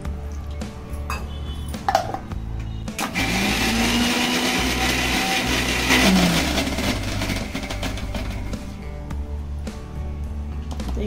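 A kitchen mixer grinder blends coriander, green chili and garlic with a little water into chutney, a loud continuous whir that runs for most of the stretch after a few clinks of the jar at the start.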